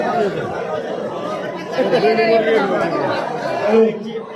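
A crowd packs a stage at a Maratha reservation celebration in Antarwali, with a dense wash of overlapping voices and chatter that swells slightly toward the end.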